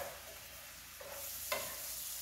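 Garlic frying softly in a pan for a pasta dish, a low steady sizzle with faint stirring scrapes and one brief clatter near the end, fairly quiet and with no talking.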